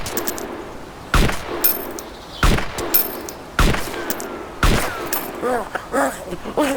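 Gunfire in a DayZ or Left 4 Dead 2 match, with four sharp, loud shots spaced about a second apart, each followed by brief ringing decay, and faint voices underneath.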